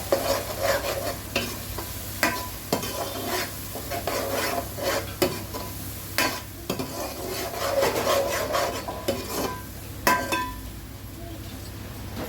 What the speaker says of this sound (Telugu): ఇందాక మనం చేసి పెట్టుకున్న పచ్చిమిర్చి పేస్ట్, రెండు ఫుల్ పచ్చివాసన పోయేంత వరకు ఫ్రై